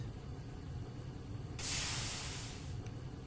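A GregTech machine in Minecraft vents steam in a sudden bright hiss lasting about a second, standing out over a low, steady background hum before it cuts off.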